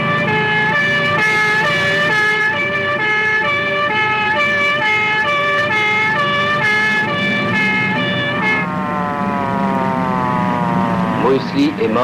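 An ambulance siren wails loudly, first as a steady repeating two-tone cry and then sliding into rising and falling sweeps as the vehicle moves, heard close with no speech over it.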